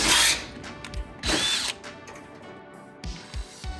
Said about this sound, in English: you don't hurt yourself while you're drilling out these metal rivets